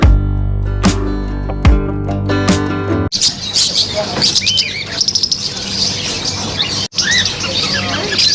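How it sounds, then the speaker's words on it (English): Birds in the bird section of a Doha market chirp and squawk in dense, overlapping bursts, following a loud musical passage, with busy market ambience beneath. "I ended up at the bird section. There are also budgies, pigeons, chicken stuff."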